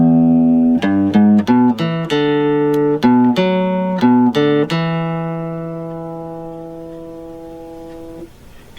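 A guitar in standard tuning plays the opening riff of a song, a clean run of plucked notes in a quick rhythmic phrase, then a held final note rings out and decays, loud and close with no voice.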